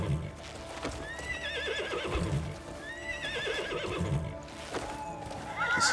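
Wild horses in the video game Crimson Desert neigh and whinny repeatedly over clip-clopping hooves, the calls rising and falling in close succession.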